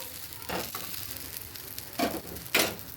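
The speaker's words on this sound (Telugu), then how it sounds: "బటర్లోనే మనం రోస్ట్ చేసుకోవాలి బాగా" Bread kunafa roasts in butter in a pan with a steady low sizzle, broken by a few louder bursts of stirring and scraping.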